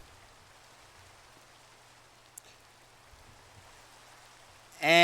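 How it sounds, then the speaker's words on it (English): Steady rain in Minecraft, a soft, even hiss of falling drops that holds low and constant for several seconds before a louder sound cuts in at the very end. "and it's raining"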